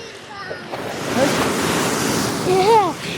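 Ocean waves break and wash steadily onto a beach, a broad continuous roar of surf with wind noise, while people talk and shout nearby over the sea.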